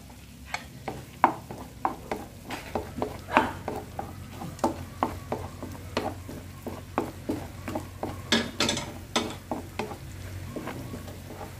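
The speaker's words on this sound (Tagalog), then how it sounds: "Yan, lagay natin ang bawang." Garlic hitting a hot pan for spaghetti sauce, a steady sizzle running under repeated sharp scrapes and taps of a utensil stirring against the pan, close and moderately loud throughout.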